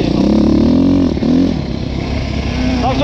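Motorcycle engine revving and labouring close by as it rides up a slope, pitch rising and dipping as it climbs, with rattling and a voice talking over it.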